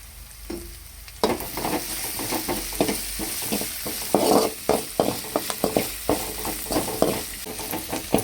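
Onions sauté in a hot pan with green chilli and curry leaves, a loud close sizzle broken by rapid rhythmic scraping of a spatula stirring against the metal, no voices.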